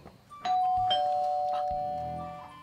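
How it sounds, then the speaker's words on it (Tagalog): A house doorbell rings with clear ding-dong chime tones that ring on and fade slowly, with faint voices in the background. "Doorbell."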